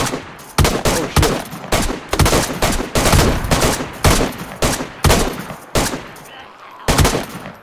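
Gunfire in the DayZ video game during a helicopter horde fight comes as a rapid series of loud, sharp shots, some in quick bursts and others spaced apart, going on without a break and with no talk.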